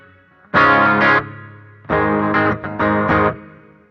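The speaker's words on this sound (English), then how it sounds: "Reverb over here, it's something I quite like, so let's hear." Electric guitar through a Mooer Red Truck multi-effects pedal with reverb on. Three loud sustained chords ring close and clear, each trailing off into a short reverberant tail.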